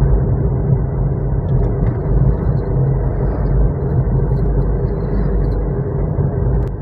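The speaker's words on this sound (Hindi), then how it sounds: "देखिए दोस्तों कितनी आराम से कार चल रही है 50 की स्पीड में" A car cruises steadily in fourth gear at 50 km/h, heard from inside as a constant low engine and road rumble with no talk.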